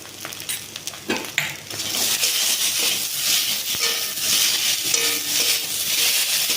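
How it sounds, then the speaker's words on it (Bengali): Potatoes frying in oil over high heat, a continuous loud crackling sizzle with scattered stirring clinks against the pan, close and without speech. "আলুটা ভেজে নেব, ভালো করে জ্বালা দেব"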